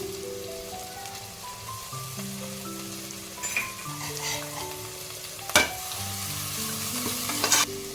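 Garlic paste fries in a pan of biryani masala, a continuous crackling sizzle with occasional sharp spoon knocks, close up, while a steady tonal music bed plays underneath.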